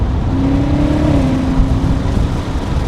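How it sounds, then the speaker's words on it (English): A BMW M8 engine, heard from inside the car, drones loudly and steadily as it downshifts through the paddle shifters, its pitch sliding gradually with a continuous rumble and road and wind roar beneath. "testing out the paddle shifters, so let's go ahead and downshift. 6th gear, 5th gear, 4th gear, 3rd gear."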